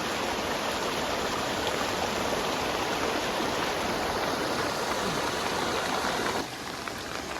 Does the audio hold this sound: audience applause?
no